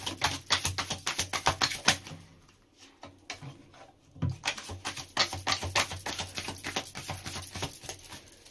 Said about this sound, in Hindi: और क्या एनर्जीज है, मैं लास्ट शफल में कर रही हूँ यहाँ पर